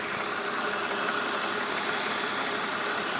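A BMW engine idles steadily in a car that overheats once driven, with the water pump suspected as the fault. The close, even mechanical hum runs throughout, unchanged in rhythm, with no voices.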